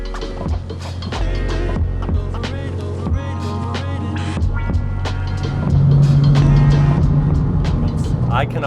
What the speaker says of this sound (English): I'm driving my Porsche 911.